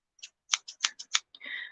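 Scissors snip through craft material to make grass for a nature-themed canvas, a quick run of six or seven sharp close cuts with a short rustle at the end, in a quiet room.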